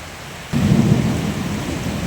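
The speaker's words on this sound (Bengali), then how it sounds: "মারাত্মক বজ্রপাতে বৃষ্টি আবার জোরে আসছে" Heavy rain suddenly intensifies into a loud, steady downpour with a low thunder rumble during a storm in Mobarakpur Colony, Tehatta, Nadia, continuous and close with no voices.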